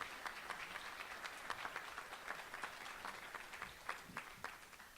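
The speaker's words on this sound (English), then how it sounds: "Once again, a big round of applause for our Joe Gemelli Fleur de Lis Award recipient, Peter Finney." Audience applause at a Saints Hall of Fame induction award luncheon: a crowd claps steadily for an award recipient, sounding faint and distant in the room, with no talk over it.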